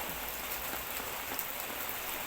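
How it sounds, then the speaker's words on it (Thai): Rain falls steadily in the open with a dense, even patter, moderately loud and unbroken, with no voices over it. "ช่วงนี้ฝนตกเนาะ"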